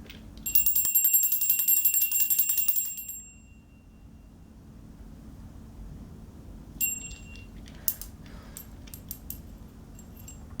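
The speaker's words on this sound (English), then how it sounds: "Ring my bell for you." A hand bell rings sharply and steadily for about three seconds in a quiet room, then fades; a second brief ring and a few light metallic taps follow later.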